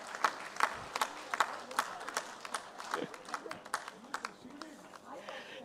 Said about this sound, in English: Please give a big round for applause for Nikita madam.